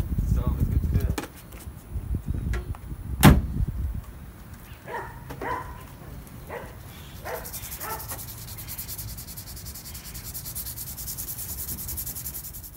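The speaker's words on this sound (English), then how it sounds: "we're pretty much done sanding the whole truck" Sandpaper rubs over the body of a Yukon truck being prepped for a Raptor paint job, in scattered scraping strokes, with a dog barking and faint background noise.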